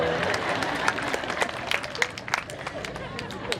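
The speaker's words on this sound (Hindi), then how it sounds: "ताली तो जरा ढंग से बजाओ" Audience clapping at a Jain satsang gathering, a brief stretch of dense, steady applause from many hands, with some crowd noise mixed in.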